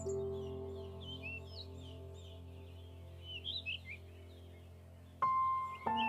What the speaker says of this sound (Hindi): तभी उसे पीली चिड़िया की आवाज आती है।